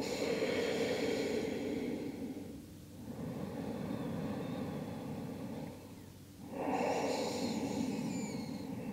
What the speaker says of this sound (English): Just taking some nice deep breaths in and out.